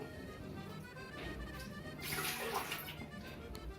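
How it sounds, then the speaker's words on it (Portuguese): Warm water poured into a bowl for esfiha dough in a home kitchen, a steady low splashing that swells louder for about a second midway, alone without talk. "A água que eu vou colocar aqui é uma água morna."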